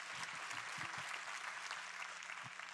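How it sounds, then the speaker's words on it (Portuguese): Church congregation applauding, a dense steady wash of clapping from many hands that fills the whole stretch, with a few faint voices underneath. "Vamos aplaudir ao Senhor"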